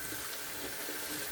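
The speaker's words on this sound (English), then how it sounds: "I'm going to rinse this off." Tap water runs steadily while soap is rinsed off hands in a sink, a continuous broadband splashing hiss with no voices.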